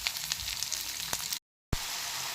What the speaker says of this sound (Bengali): প্রথমে রসুন কুচি দিয়ে দিলাম, ভালো করে নেড়ে নেব। এতে যোগ করব পেঁয়াজের কুচি।